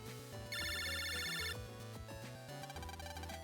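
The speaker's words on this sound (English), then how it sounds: "Lan, it's a phone call." A phone ringing in the video game Mega Man Battle Network 5, a bright electronic ringtone chirping in a rapid burst over background game music, no voices.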